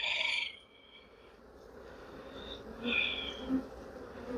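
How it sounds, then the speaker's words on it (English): Honeybees buzz around a hive, with one loud pass close by at the start, then softer, intermittent drones as bees fly near and away, over a quiet outdoor hum. "So all the grumpy bees are back"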